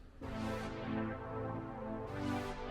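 Two layered brass synths play together as one instrument in a beat, two swelling chord stabs with bright attacks and sustained tails, with no talking.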